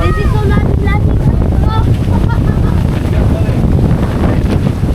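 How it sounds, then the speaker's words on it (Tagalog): Strong wind roars and buffets loudly against the microphone throughout on a family trip to Tabina, with faint voices partly buried beneath the rushing noise. "Lakas ang hangin."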